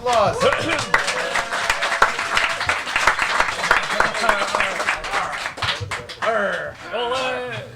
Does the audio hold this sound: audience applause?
yes